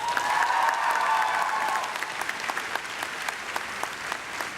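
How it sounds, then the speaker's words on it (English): A high school graduation audience applauds loudly and steadily in a large hall, the clapping easing slightly toward the end. "I'd like to have a big round of applause for your class advisors"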